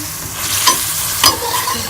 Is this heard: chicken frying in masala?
yes